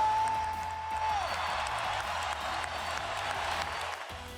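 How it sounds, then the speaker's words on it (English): Arena crowd giving a standing ovation and cheering at a basketball game in tribute to a late coach, a broad steady roar of clapping and cheers from a large crowd, heard at a distance. "I'd like for all of us to give Decky an ovation that he can"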